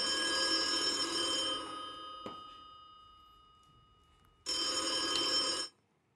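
An electronic telephone rings for the banker's call on a French game show, two bursts of bright trilling with a short quiet gap between them and a faint click in the pause.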